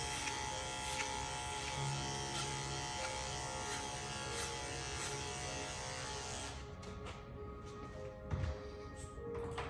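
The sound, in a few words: electric hair clippers cutting a man's hair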